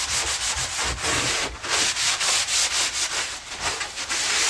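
Wooden furniture being rubbed down during restoration, a steady abrasive scrubbing with quick repeated back-and-forth strokes, close and continuous.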